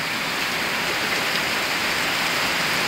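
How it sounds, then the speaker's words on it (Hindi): Torrential rain pours down in the mountain village of Ghandruk, Nepal. It makes a dense, unbroken hiss that holds loud and even throughout, with no voices. "अब बारिश और तेज़ हो गया भाई सामान बांधते बांधते बारिश देख रहे हो और मूसलाधार बारिश हो गया"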